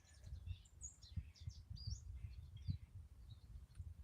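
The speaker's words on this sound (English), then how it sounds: "Maybe I should just sit here and listen to the birds chirping." Several birds chirping and tweeting outdoors in short, scattered calls, faint and moderately distant over a low steady background rumble.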